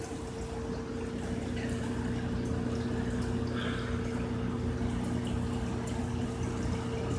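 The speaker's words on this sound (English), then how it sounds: "That's a lot of force coming down in that water." Water pours forcefully into the stream of a DIY koi pond, a steady rushing splash over a low, constant pump hum, with no talk.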